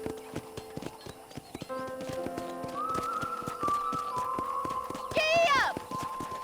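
A horse in the video game Red Dead Redemption gallops with a rapid, steady clip-clop of hooves under a sustained musical tone, and a brief whinny rises near the end.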